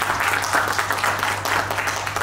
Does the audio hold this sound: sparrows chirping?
no